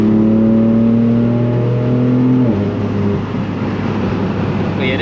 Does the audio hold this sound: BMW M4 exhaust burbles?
yes